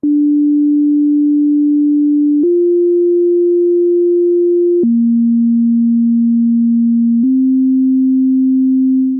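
A steady synthesizer tone stepping through four sustained pitches, each held for a couple of seconds, clean and loud with no other sounds.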